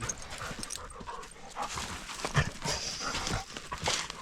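Dog panting and running across open ground on an off-grid homestead, with quick breaths and light footfalls, moderately close against outdoor background noise.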